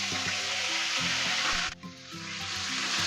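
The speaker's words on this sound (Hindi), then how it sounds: "अब हम इसमें डालेंगे 1 टीस्पून लहसुन और 1 टीस्पून अदरक का पेस्ट।" Garlic and ginger paste sizzles and fries in a hot pan over a low flame, a steady close hiss with a brief dip midway as it is stirred, no talking.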